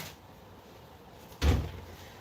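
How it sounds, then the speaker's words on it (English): A door in a home is pushed shut with a single solid thud, close by and fairly loud, after a quiet room hum. "let me close the door"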